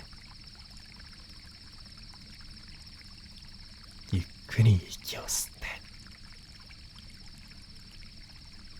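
Babbling river stream in a quiet night setting, a soft continuous trickle of flowing water under a close, gentle speaking voice, with a few brief louder splashes or rustles midway.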